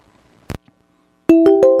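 A telephone ringing tone during a call, a steady electronic tone that starts abruptly and holds, preceded by a brief click or bump in near silence.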